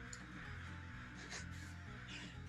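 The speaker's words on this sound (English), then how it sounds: "there are still a couple of murders of crows on the ground that haven't dispersed yet" A few harsh crow caws ring out over a continuous background bed in a Deadlands tabletop RPG scene, with two or three distinct calls spread across a short stretch and no talk.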